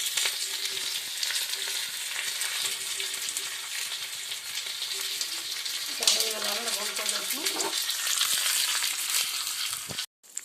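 Cumin seeds and chilies sizzle steadily in hot oil in a home kitchen pan, a continuous bright hiss that flares louder and crackles more midway, with faint stirring and brief speech.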